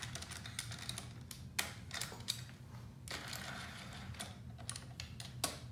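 Bolts being tightened on a sharp bite clamp during a Husqvarna handlebar mount installation, with faint intermittent clicks and ratcheting taps spaced across a quiet background.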